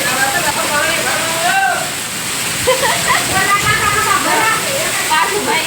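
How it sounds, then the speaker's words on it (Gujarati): Heavy unseasonal rain pours down steadily in a village courtyard during a storm, a dense continuous hiss with people talking over it throughout. "તો જો વરસાદ શરૂ થઈ ગયો છે"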